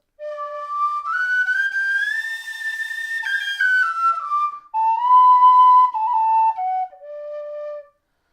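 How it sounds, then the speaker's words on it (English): A tin whistle plays a lilting Irish melody alone, clear and close, with notes sliding smoothly up and down between pitches. "that's the Clark whistle."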